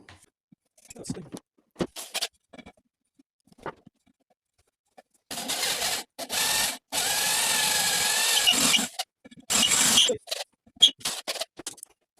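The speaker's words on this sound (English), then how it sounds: "I'm going to drill a second hole through the rim." A power drill whines in several bursts of varying length while drilling a hole through an electric unicycle wheel rim, the longest a steady grinding run, separated by quiet pauses and brief handling noises.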